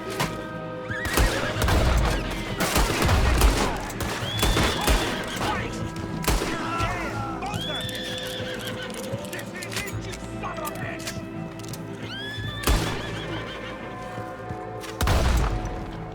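Horses in Red Dead Redemption 2 neigh and whinny over hoofbeats as riders arrive, with scattered gunshots, music and voices throughout; the horse calls are clear and close, repeating several times.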